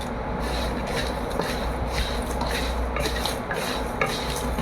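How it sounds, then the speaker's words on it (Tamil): Star anise dry roasting in a pan for biryani masala, giving a steady, continuous scraping and rustling hiss as the spice is stirred, with no voices. "நல்லா வறுத்துக்கணும்"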